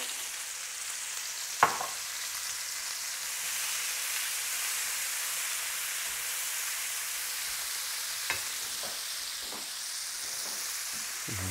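One large onion, sliced into thin half moons, fries in a pan with a steady, fairly soft sizzle and hiss throughout, broken by a few sharp clinks from a utensil.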